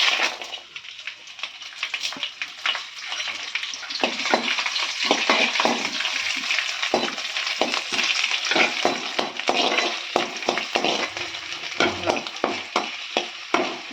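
Chopped onion and tomato crackle and sizzle in hot oil in a pan for a simple onion-tomato chutney. A spoon keeps stirring and scraping, giving repeated sharp clicks over the steady frying hiss.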